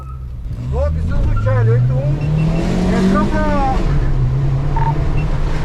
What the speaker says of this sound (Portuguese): E agora vamos assistir um carro roubado passando pela nossa viatura.